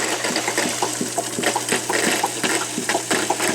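Water splashing and trickling steadily through the filter of a Drinkwell Big-Dog pet fountain as it begins to overflow, a continuous close burble with small bubbling pulses.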